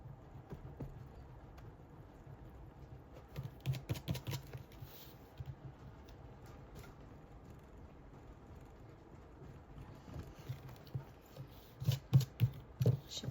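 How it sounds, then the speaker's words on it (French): Light rain patters steadily outdoors in August, a soft continuous hiss with scattered taps that grow denser and louder toward the end, no voices. "il s'est mis à pleuvoir"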